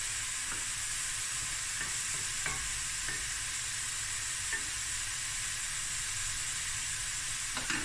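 Onions seasoned with salt and pepper sizzle steadily in a pot, a constant close frying hiss with a few faint stirring clicks and no talking.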